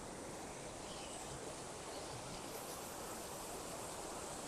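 River water flows steadily under Cangar bridge, a continuous broadband rush with no pauses, faint and fairly distant, heard alone without voices.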